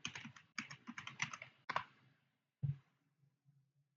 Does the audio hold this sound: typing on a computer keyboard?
yes